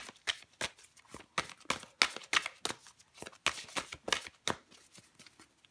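A tarot deck is shuffled and cards are drawn, making a rapid series of crisp, papery riffles and flicks in an irregular rhythm, close and fairly quiet with no voice over it.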